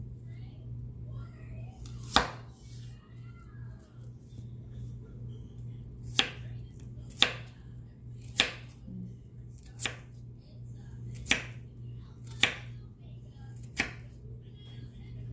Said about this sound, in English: I'm going to start off by cutting up the onion.